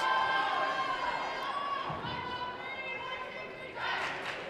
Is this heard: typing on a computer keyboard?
no